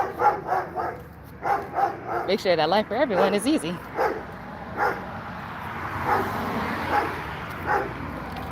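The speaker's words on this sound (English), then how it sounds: "So sorry about that dog." A dog barks and yips repeatedly nearby, a run of sharp barks turning into whining, wavering yelps, heard beneath a person talking steadily indoors.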